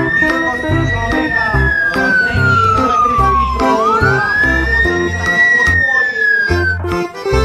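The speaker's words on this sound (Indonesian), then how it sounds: "Yang ini ada mobil pemadam kebakaran." A toy fire engine siren wails in a continuous sweeping tone that dips and rises again, loud and close, over a repeating electronic beat and jingle from the toy.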